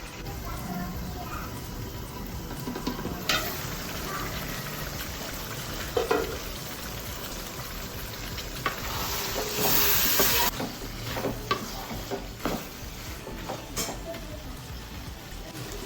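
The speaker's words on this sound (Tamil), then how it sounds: "எல்லாம் மிக்ஸ் பண்ணியாச்சு கொஞ்சம் வதங்கட்டும்" A steady sizzle and hiss of food frying in a pan, with occasional scraping and stirring clatter, continuous and close.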